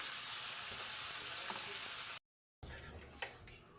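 Okra and squash sautéing in a pan give a steady, close sizzle for about two seconds, then a brief silence, then quieter frying with a couple of light clinks or stirs.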